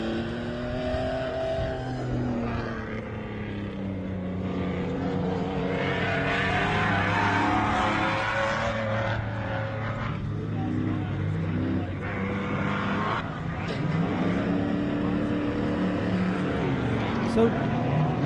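Off-road race vehicles compete at the MetalCloak Stampede, their engines droning and revving at a distance under a near-continuous commentator's voice.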